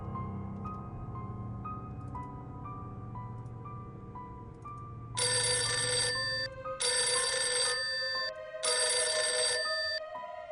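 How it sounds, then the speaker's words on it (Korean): An intercom rings in a military command and control room on night duty, three loud bursts of bright electronic ringing separated by short gaps, rising over a low steady hum. "인터폰 소리가 들려왔습니다."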